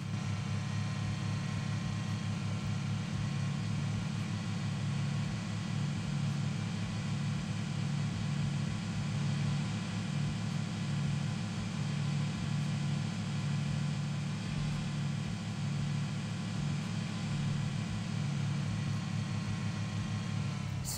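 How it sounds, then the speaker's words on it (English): A car driving uphill in the PUBG Mobile video game, a steady droning engine hum that holds at an even level throughout, with no talk over it. "So now I'm just driving up this hill and just looking around"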